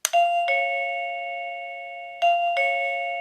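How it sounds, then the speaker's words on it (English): A KooPower wireless doorbell with a batteryless remote plays a clear two-tone ding-dong chime twice, each note ringing out and slowly decaying in a quiet room. "the doorbell rings by a simple press of the batteryless remote control"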